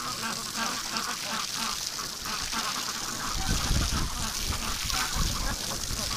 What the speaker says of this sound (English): there's that cross, that Peking duck that's a cross